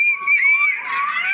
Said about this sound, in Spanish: Un gritillo de vaquero.